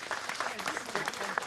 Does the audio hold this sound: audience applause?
yes